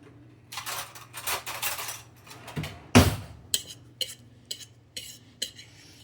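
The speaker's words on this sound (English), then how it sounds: "which I'm going to stir actually with a fork" A fork scrapes and taps against a bowl while buttermilk is mixed for biscuits, giving a series of quick, uneven clinks and scrapes, close and fairly quiet, with one sharper knock midway.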